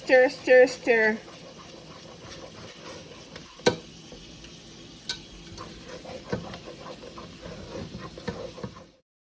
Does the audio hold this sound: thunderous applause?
no